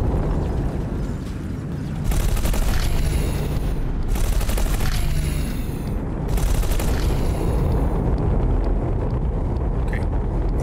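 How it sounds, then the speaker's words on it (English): Plasma cannons firing at a shield generator in the space simulator X4 Foundations, heard as bursts of sharp, loud energy blasts repeating every couple of seconds over a steady engine rumble, with no talk. "Let our plasma cannons recharge. We need to get a couple of good solid hits off on this thing."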